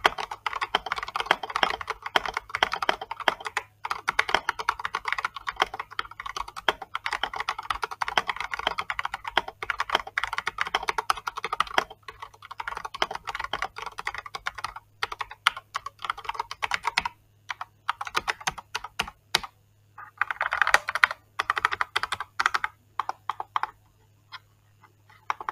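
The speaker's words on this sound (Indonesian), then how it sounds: "Berikut ini tes suara ketik Gamakei" Typing on a Gamakay LK67 custom mechanical keyboard, a steady stream of crisp, close key clacks at varying speed with brief pauses between bursts.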